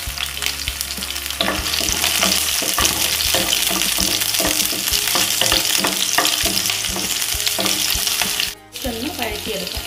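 Shallots, ginger, garlic and green chillies sautéing in a pan for Kerala tomato rasam: a loud, continuous sizzle with rhythmic stirring scrapes, briefly dipping near the end.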